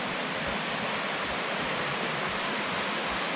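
River water rushing where two headwaters join into one stream, the Sungai Tempuran, on a rainy day; a steady, dense broadband roar runs unbroken throughout, close and even, with no voices.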